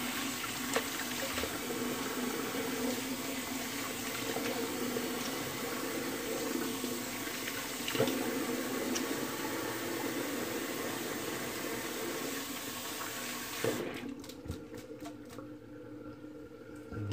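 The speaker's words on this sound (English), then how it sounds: "I'm going to do a cold water rinse. Here, a little bit of water running." Cold water runs steadily from a bathroom tap for a post-shave rinse, a continuous hiss and splash that cuts off near the end, leaving a few drips.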